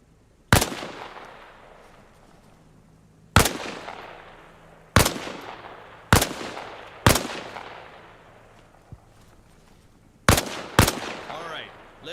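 Single rifle shots fired from cover while leaning out behind a wall in Arma Reforger, seven sharp loud reports spaced irregularly over several seconds, each trailing off in a long echoing decay with faint low hum between shots.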